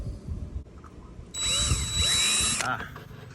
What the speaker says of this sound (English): I just gotta drill my holes 90 millimeters apart.